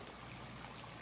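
Water boiling in a pot, a faint continuous bubbling hiss and gurgle with no voices over it.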